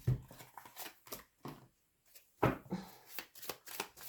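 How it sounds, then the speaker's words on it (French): Tarot cards shuffled and set down during a reading, heard as close, dry riffling bursts and soft slaps broken by short pauses. "mettre d'autres cartes pour compléter ce tirage"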